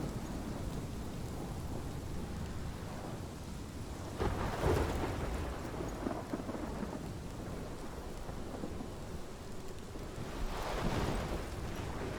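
A thunderstorm in the video game Life is Strange: steady heavy rain hiss with two rolling rumbles of thunder, one around the middle and another near the end, no voices.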